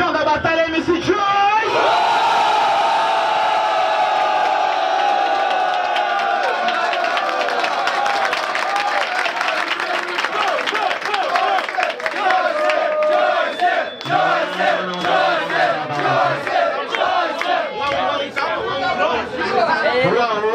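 A crowd at a rap battle final cheers, whoops and yells loudly and continuously for the winner, with a sustained roar of many voices close by and shouts rising over the din.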